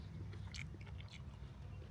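Biting and chewing on a crunchy taco shell filled with seasoned chicken, diced onions and cilantro, with a few crisp crackles up close during steady mastication and no talk.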